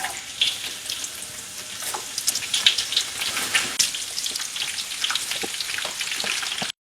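Sliced shallots sizzle and crackle in oil over medium heat, a steady close hiss with dense popping and spattering throughout, no voices.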